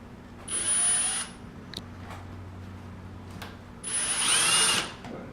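Power drill driving a screw into pallet wood for a workbench, two short high-pitched whirring bursts about three seconds apart, close and moderately loud with quiet handling between.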